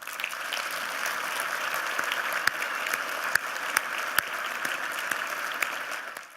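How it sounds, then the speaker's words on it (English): An audience at an award dinner gives a steady round of applause, even dense clapping throughout with a few sharper nearby claps standing out, fading at the very end. "please join me in a round of applause for Marcia Dunn."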